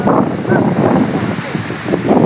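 Strong sea wind buffets the microphone in loud, gusty roars by the coast at Gumaca, Quezon, with a voice partly heard under the rush of air.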